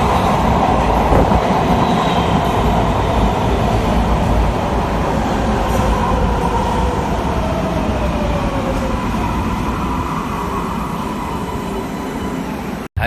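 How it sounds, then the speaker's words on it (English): Train pulling into a station with continuous loud rumbling and clickety-clack wheel noise, faint squeals threading through, steady throughout until it stops. "see you when the train gets here."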